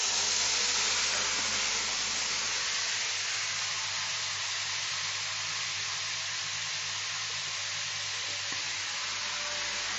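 Tamarind water poured into a hot pan of frying mourala fish sets off a steady, loud broadband hiss and sizzle that continues unbroken, with no voices over it.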